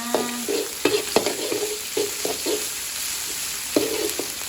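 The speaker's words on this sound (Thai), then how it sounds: "เจียวกะปิให้หอมหน่อย" Shrimp paste frying in a pan before long beans are added, a steady hiss of sizzling oil broken by repeated clinks and scrapes of a spatula stirring, close up and without talk.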